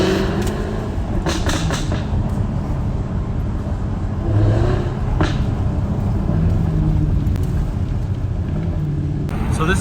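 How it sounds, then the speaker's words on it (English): Jaguar F-Type coupe engine revs in sustained, loud bursts with deep rumble and occasional rising surges, recorded from inside while driving, no talk over it. "just so y'all can hear what that Jag sounded like that I was driving"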